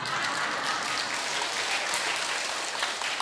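Audience clapping during a sermon at a Buddhist temple, steady dense applause throughout, fairly loud and even.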